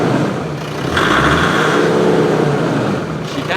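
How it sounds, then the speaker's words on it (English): Land Rover Defender engine revving up, the loud nearby roar rising in pitch and holding before easing back down, with no one talking over it. "This is it revving."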